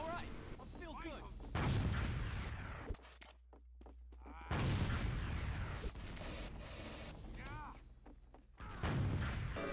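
Soldier rocket jumps in Team Fortress 2 on the Snakewater map, with several loud rocket blasts bursting in separate clusters amid game noise, and other sounds and voices faintly underneath.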